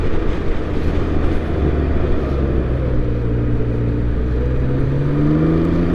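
A 2023 Can-Am Ryker three-wheeler accelerates hard, its engine droning loud and steady with a rising pitch and constant wind and road rush throughout.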